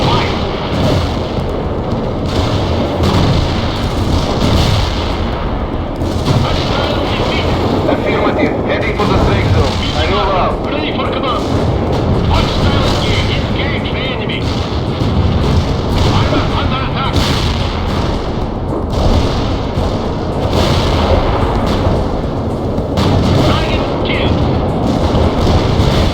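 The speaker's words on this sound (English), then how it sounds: "Medium rocket fire." Medium rocket artillery barrage in the World in Conflict video game, a loud continuous roar of launches and blasts with rumbling booms throughout, under occasional voice chatter.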